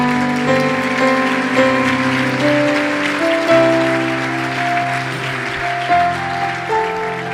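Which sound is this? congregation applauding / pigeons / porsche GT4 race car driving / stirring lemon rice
congregation applauding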